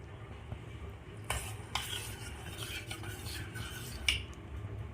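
A spoon scrapes and clinks in a pan of herbal hair oil mixture simmering on a stove over low heat, with a faint sizzle underneath and occasional sharper metallic taps.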